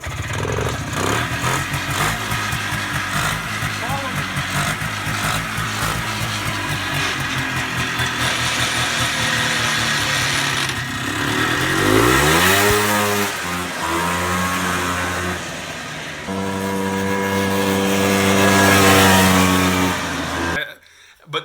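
A 1980s Polaris Trail Boss 250 four-wheel-drive ATV with a two-stroke engine runs steadily up close, then revs up in rising sweeps and settles back, with people talking over the loud engine noise.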